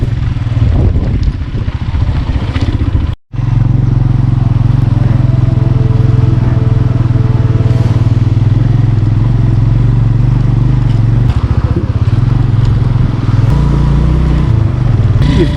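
Motorcycle riding along the rough Deosai plateau road, its engine droning loud and steady at close range with clattering over the bumps, broken by one brief cutout near the start.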